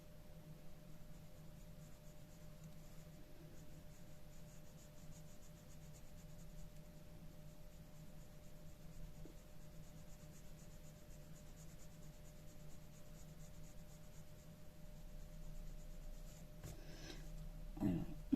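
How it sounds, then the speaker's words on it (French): A pencil shades on paper with a soft, steady scratching that runs continuously at low level, and a brief louder rustle comes near the end. "j'appuie un peu plus sur mon crayon quand je suis sur les bords et je relâche quand je pars vers l'extérieur"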